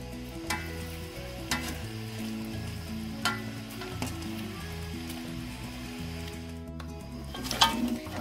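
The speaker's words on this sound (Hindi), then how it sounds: "ये जो गोश है ना ये भी डाल दूंगी, ताकि साथ ही साथ दोनों चीज भून जाए" Meat for nihari being fried together with other ingredients in a pot, with a steady close sizzle, periodic sharp stirring clanks and a louder scrape near the end.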